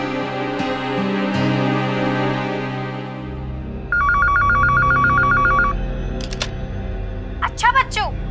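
A landline telephone rings in a short electronic trill burst partway through, set amid background music and other sounds in a home drama scene.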